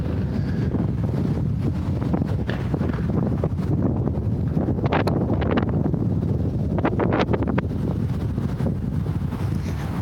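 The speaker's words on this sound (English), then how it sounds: "Big old wind gust." Strong wind gusting into an outdoor microphone behind a city hall, a loud continuous low rumble with buffeting bursts throughout, no talk.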